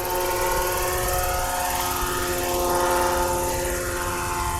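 A Roban MD-500E 800-size RC model helicopter flies circuits, its rotor and motor giving a steady, loud whine and beating hum that swells slightly as it passes, heard on its own without talk.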